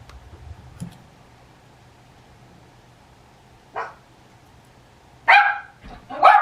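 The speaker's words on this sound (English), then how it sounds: "Yes, I heard the other dog too." A dog barks a few times at a distance, with a single yip near the middle and a short burst of barks toward the end, heard over a quiet indoor room with faint low hum.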